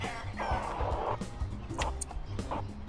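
Chickens cluck in the Bad Guys at School video game, a few short bursts of clucking over a low rumbling background, fairly quiet and close.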